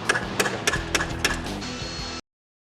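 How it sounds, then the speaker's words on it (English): Sharp metallic strikes ring out in a steady rhythm, a hammer driving a chisel into brick around drilled pilot holes, before the sound abruptly stops. "Then we're gonna chisel it out."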